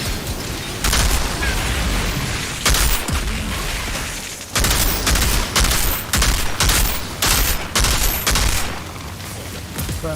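Automatic turret firing in the video game Outriders during an end-game fight, dense bursts of loud gunfire with booming impacts, repeating in several long volleys separated by brief gaps, close and continuous.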